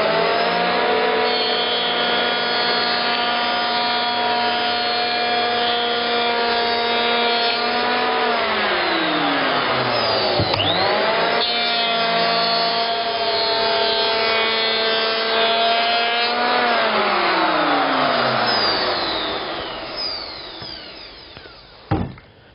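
A Bosch power planer cutting timber: a loud whining motor with a pitch that dips and climbs as the blade bites the wood across several passes, then winds down to quiet near the end.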